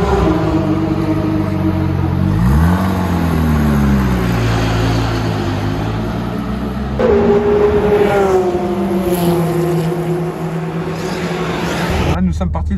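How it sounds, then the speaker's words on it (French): Radical SR3 SL race car on the Bugatti circuit, a loud engine revving and shifting through rising and falling pitches over several seconds, with a voice talking over it. "c'est Christophe Tinceau qui vient prendre lui-même le volant de cette Radical SR3 SL"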